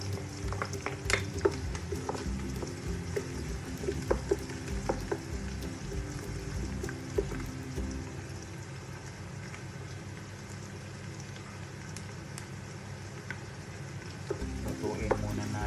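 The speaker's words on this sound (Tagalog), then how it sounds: "Lutuin muna natin ang bawang." Garlic sizzles steadily in a pan for chicken afritada, a dense continuous hiss with repeated scraping and clinks of stirring, close and fairly loud throughout.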